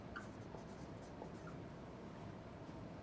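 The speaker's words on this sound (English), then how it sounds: "Let's write that down." Pen or pencil writing down notes for a math lesson, a steady soft scratching over a constant low background hum, with no talk.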